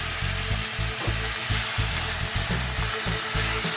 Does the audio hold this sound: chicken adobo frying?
yes